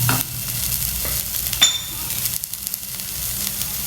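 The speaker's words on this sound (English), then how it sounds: "These are frozen peas, and again stir them together" Chopped cabbage, frozen green peas and onions sizzle in a pan while a spoon stirs them, sending short scraping bursts over a continuous frying hiss.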